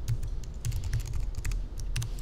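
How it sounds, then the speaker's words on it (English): Typing on a computer keyboard: quick, irregular clicking keystrokes, close and distinct, with no talking over them. "If I start typing something"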